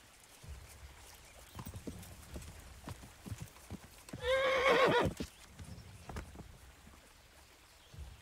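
A horse in the video game Kingdom Come: Deliverance gives a loud, quavering whinny midway, with soft hoof clops and faint rustling before and after.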